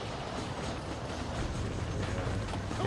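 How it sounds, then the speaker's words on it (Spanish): Steam train running in the Western video game Red Dead Redemption, a steady dense rumble and clatter with no voices. "You have to go out there and stop the train before it crosses the bridge."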